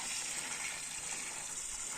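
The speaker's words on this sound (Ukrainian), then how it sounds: "джерельна водичка тече." Spring water flows in a steady, unbroken rush, a continuous broadband hiss without pauses, close and moderately loud.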